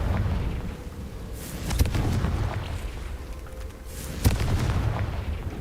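Two heavy booms of a Confringo blasting spell explode in the game Hogwarts Legacy, spaced a few seconds apart over a continuous rumbling game soundscape.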